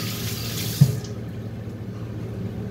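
Herbs washed under a running tap, water flowing with a steady hiss that cuts off abruptly after about a second, leaving a low hum with no talk.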